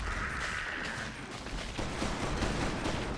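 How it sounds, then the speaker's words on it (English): Rapid, dense gunfire from the Shredder in Dota 2, a sustained burst of shots with a mechanical whir running underneath. "you hear that little shredder come out"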